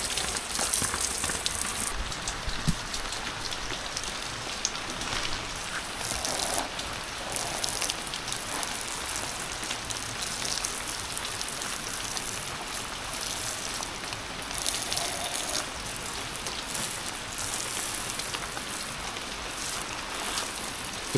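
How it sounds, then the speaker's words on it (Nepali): Heavy rain falls steadily at a home during a monsoon downpour, a dense, unbroken wash of hiss that stays even and fairly close throughout, with no voices. "यहाँ एकदम झरी लागेको छ।"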